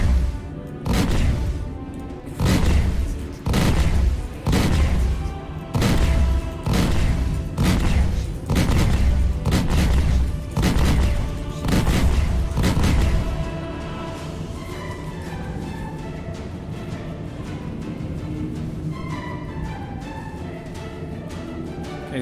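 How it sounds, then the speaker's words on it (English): Turrets fire in the game Star Citizen during an FPS bunker mission: a rapid series of heavy, booming shots in a regular rhythm, loud and close, then fading into a rumbling, droning tail. "there's the turrets opening up"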